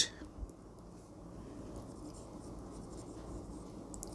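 Chalk or a marker scratches steadily across a board as an equation for a class 9 physical science lesson is written, a low, continuous, faint rasp.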